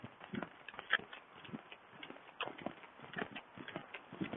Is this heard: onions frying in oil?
no